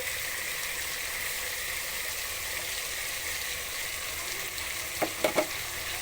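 Chicken fried rice sizzling steadily in a hot pan while being stirred, a close, even frying hiss with a few sharp scraping knocks of the utensil near the end.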